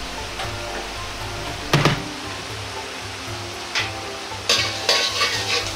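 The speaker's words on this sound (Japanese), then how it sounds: "先ほどの残った油を使い生姜を炒めます。" Ginger stir-frying in leftover oil for a pork belly curry fried rice, a steady sizzle with a few sharp scraping bursts as the pan is stirred.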